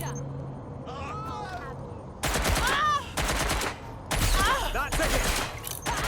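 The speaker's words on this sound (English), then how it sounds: "Taking fire!" Rapid bursts of automatic gunfire in the video game Watch Dogs Legion, loud and dense, coming in several separate volleys with short pauses between, over shouted voices.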